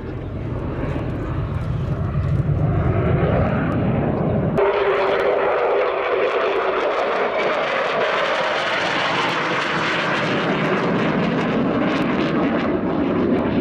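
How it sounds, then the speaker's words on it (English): An aircraft engine roars loud and continuous during a slow speed display pass at the 2017 Yeovilton Air Day, its droning tone shifting abruptly a few seconds in, then sustaining a broad rushing sound. "Resuming the slow speed pass down towards the right hand end of the display line."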